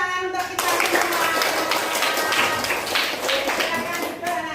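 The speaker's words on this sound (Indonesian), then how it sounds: "Tepuk tangan untuk kita semua" A classroom group of students claps together in a dense, sustained burst, with the teacher's voice audible at the start and end.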